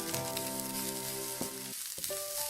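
Grated coconut fries in hot oil with onion and garlic for a Kerala kadala curry, giving a close, steady sizzle over a tonal hum, broken by a couple of brief stirring scrapes.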